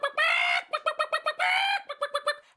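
Hens clucking close by: a quick run of short, sharp clucks broken by two longer, drawn-out squawking calls.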